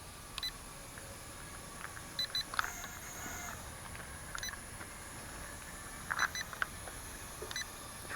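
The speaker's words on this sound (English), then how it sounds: "You've got to do it as soon as it beeps twice." Small electronic beeps from a Syma X100 mini toy drone controller chirp faintly in a quiet room, a couple of short clusters of quick high bleeps separated by several seconds of near silence.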